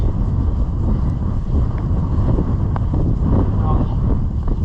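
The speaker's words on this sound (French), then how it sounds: "Et on a un vent de face qui est hyper violent." Strong headwind buffets a cyclist's microphone on a road-race climb, a constant loud low rumble of wind noise filling the whole stretch with no letup.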